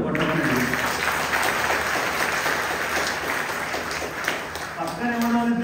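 A crowd gives a loud, sustained round of applause at a spiritual discourse, dense clapping filling the whole stretch from start to finish, with a voice audible underneath.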